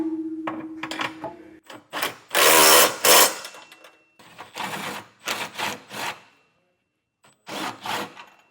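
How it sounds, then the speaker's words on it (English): An impact or power tool with an 11/16 socket runs in several short whirring and rattling bursts, separated by pauses, tightening trailer hitch bolts on a 2018 Lincoln MKX during a Class III hitch installation. "We'll take our 11/16 socket and get all these tightened down."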